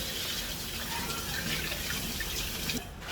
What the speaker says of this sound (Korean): 요리하는 사람이 물 트고 씻어.